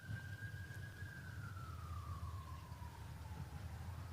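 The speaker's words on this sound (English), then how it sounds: "So we are an outdoor studio, so there's sirens in the background." A siren wails in the distance behind an outdoor studio, one faint tone sliding slowly downward over a constant low rumble of surroundings.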